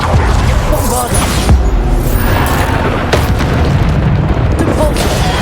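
Bombarda spell blasts in Hogwarts Legacy's final boss battle, a dense run of loud booming explosions with crashing debris over constant battle noise, while a voice keeps calling out spell names.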